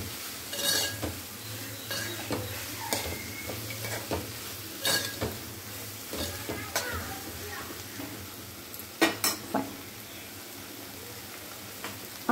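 A spoon works through a hotel-style dosa chutney mixture in a pan, with irregular scrapes and metallic clinks against a low steady sizzle, fairly close and moderately quiet.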